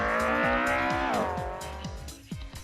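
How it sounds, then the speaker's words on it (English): A BMW 635 CSi Group A race car engine in Assetto Corsa revs high and loud, then shifts down through several quick gear changes as the pitch drops, with a brief tire squeal near the end. "this is the BMW 635 CSI Group A"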